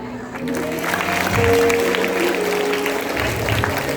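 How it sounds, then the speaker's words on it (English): Children clapping together during an eco-friendly Ganeshotsav school celebration, a steady wash of applause with a short tonal sound partway through, moderately loud and continuous across the moment. "Clap."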